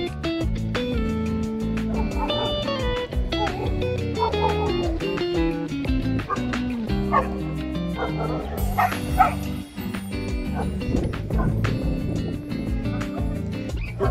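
A tied-up dog at a petrol station barks and yips repeatedly, with some whimpering, close and fairly loud over a dense, continuous music-like background.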